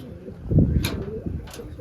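Pigeons kept in baskets coo softly nearby in a couple of low, throaty bursts, with someone talking over them.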